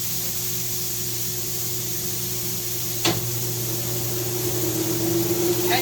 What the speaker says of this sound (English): I'm cooking fresh potatoes in the air fryer